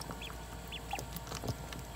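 Ducks at the water, a few short nasal quacks scattered over two seconds against a steady outdoor background.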